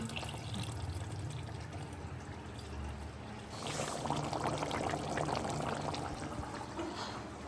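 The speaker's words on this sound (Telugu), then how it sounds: "కొంచెం వాటర్ పోసి ఉడకబెట్టుకుందాం" Water is poured into a pan of gongura chicken curry to simmer it, with a low bubbling murmur that gives way to a louder, steady splashing pour partway through, fairly close and with no talking.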